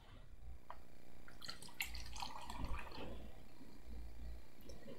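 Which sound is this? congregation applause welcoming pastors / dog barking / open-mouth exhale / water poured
water poured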